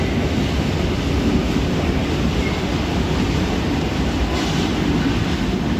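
A regional train arriving at a station platform in Veneto, Italy, rumbles steadily nearby, with a continuous loud roar and rattle of rail cars rolling along the tracks.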